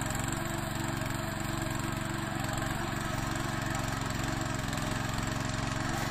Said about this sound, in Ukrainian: Дуже добре, що у нас є оцей трактор, господи.